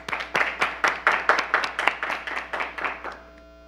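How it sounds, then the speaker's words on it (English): At a conference on robotic and computer-assisted surgery, an audience claps in a short round of applause of about a dozen distinct, fairly even claps that fade out after roughly three seconds. "So let's welcome him with applause."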